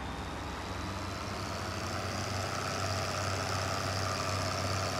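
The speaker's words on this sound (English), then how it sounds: "Curavet is still by far my favorite tractor." Steady engine drone of a Curavet tractor in Farming Simulator 2013, a continuous low idling rumble with a faint high whine, holding even and close throughout with no talk.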